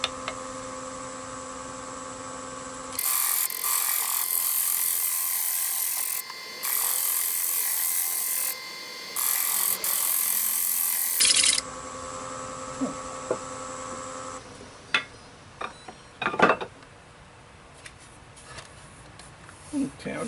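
A woodturning tool works a striped wooden platter spinning on a lathe, giving loud steady scraping bursts over a constant motor hum, then quieter intermittent tool contacts and knocks as the turning winds down.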